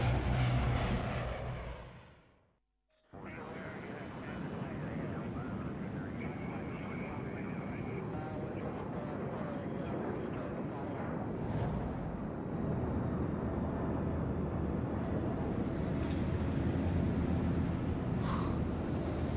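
A steady, loud drone of an airplane in flight in Splinter Cell: Blacklist fills the scene after a brief drop to silence, continuing evenly as a broad cabin rumble.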